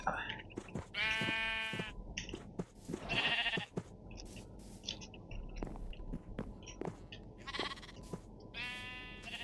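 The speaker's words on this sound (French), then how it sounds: "Il y a un petit mouton par ici." Sheep bleat in a Minecraft survival game, several drawn-out bleats from both near and farther away, with soft game sounds and occasional talk in between.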